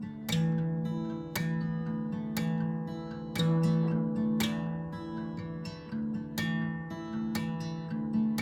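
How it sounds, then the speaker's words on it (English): Acoustic guitar strummed with a percussive hit on the fourth string from the index finger, giving sharp regular slaps over ringing chords in a steady rhythm, close and fairly loud with no talking, for a cover of a song. "Now every time you play that 4th string with your index finger, you're going to hit it so you can get that percussive noise."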